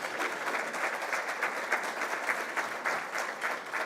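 Quiet, fairly sparse applause from an awards-ceremony audience, with individual claps pulsing unevenly at some distance and no one speaking over it.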